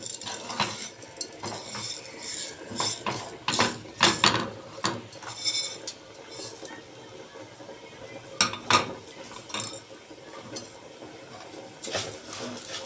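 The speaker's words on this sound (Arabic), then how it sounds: "لازم تقلبيه شوية في الزيت كده مع الحاجة عشان يبقى نفس الطعم" Washed rice stirred in oil in a metal pot, with repeated clinking spoon scrapes and knocks against the pot in irregular bursts, close and clear.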